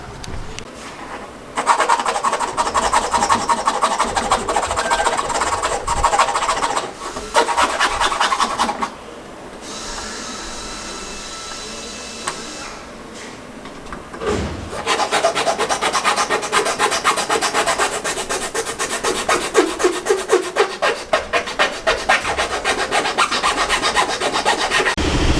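Seibon carbon fiber fenders for a Mitsubishi Evo X are shaved down by hand, heard as long close rasping strokes in repeated bursts separated by short quieter pauses, without any talking.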